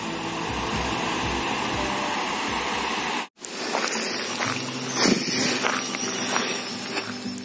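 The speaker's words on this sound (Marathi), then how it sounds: "तर अशा प्रकारे आपण हा हरकुळ खुर्द गावचा धबधबा बघू शकता." A village waterfall at Harkul Khurd gives off a steady broadband rushing roar, cut off abruptly partway through before resuming with lighter, uneven background noise and a few soft knocks.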